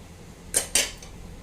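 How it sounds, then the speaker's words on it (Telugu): Ivy gourd curry is stirred in a pan over medium flame, heard as two quick, close metallic scrapes of a utensil against the pan with quiet in between. "ఇది పచ్చివాసన పోయేంత వరకు మనం ఫ్రై చేసుకుందాం."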